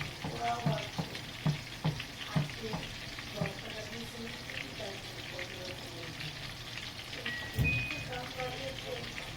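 Mushroom sauce with mixed herbs stirred in a frying pan: a gentle sizzle under a series of soft scraping, tapping spoon strokes early on, then quieter bubbling with one louder clack.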